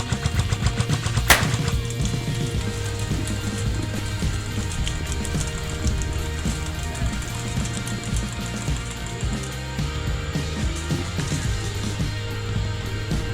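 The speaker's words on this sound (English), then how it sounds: "They know that they're shooting past me, so they might hit me." Video-game gunfire from an SSR15 rifle and other weapons, with a sharp shot early on and then dense, continuous crackling and rattling fire mixed with a low steady game soundscape throughout.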